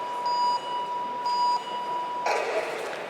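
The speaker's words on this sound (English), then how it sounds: "she looks across at the starting countdown timer to the final 5 seconds" Electronic beeps from a starting countdown timer in the final seconds before a rider leaves the start gate: two steady beeps, then a louder burst as the start goes, over a constant background hiss.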